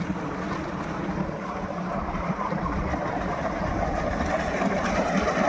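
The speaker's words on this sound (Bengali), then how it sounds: "আপনারা হয়তো আমার কথাটাও ক্লিয়ার শুনতে পাচ্ছেন না পানির গর্জনের জন্য" Loud, continuous roar of water gushing out of a 5 hp three-phase Marquis solar pump running off a VFD and 14 panels, a close, dense, unbroken rush.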